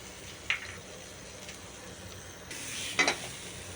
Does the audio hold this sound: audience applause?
no